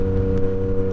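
A vehicle rolls along a road with a steady, loud engine hum and tonal drone from inside the cabin, continuous throughout with no talking.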